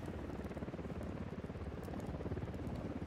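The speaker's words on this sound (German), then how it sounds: "Da nähert sich ein Helikopter." A helicopter in the video game Ghost Recon Wildlands gives off a steady, rhythmic rotor thumping with a low, chopping pulse that continues throughout.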